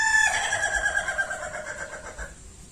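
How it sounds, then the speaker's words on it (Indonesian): A single long, rolling crow from an Indonesian ayam ketawa, a laughing chicken, in a stuttering, cackling pattern like laughter, close and loud, trailing off at the end. "Itu tadi suara ayam ketawa."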